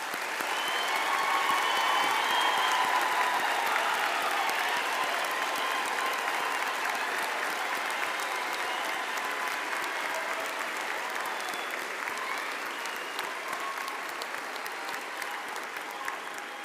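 An audience at a university graduation ceremony claps for the graduates, a sustained, fairly even round of applause from a large crowd that slowly tapers over several seconds.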